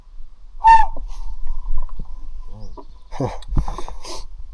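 A person imitates an owl call in wet mountain terrain, a short hooting burst followed by softer breathy attempts and more broken hoots, close and fairly loud.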